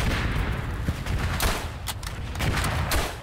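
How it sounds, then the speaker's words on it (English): Dense gunfire and explosions from the World War I shooter game Verdun keep up continuous overlapping rifle shots, distant booms and cracks with no break. "I just hear bolts whizzing by me"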